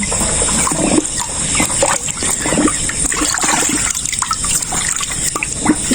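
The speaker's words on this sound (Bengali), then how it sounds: "এভাবে ভ্যাকসিনটি ভেঙে নেবেন নিয়ে ওখানে পানির সাথে জাস্ট এভাবে মিশিয়ে নেবেন" Water splashes and trickles steadily as a Gumboro vaccine for broiler chickens is mixed into ten litres of drinking water, a close, continuous liquid churn with no talking.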